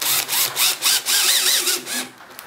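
A power screwdriver drives screws into a homemade acoustic guitar amplifier housing: loud whirring bursts that rise and fall in pitch, four or five short runs back to back before the motor winds down.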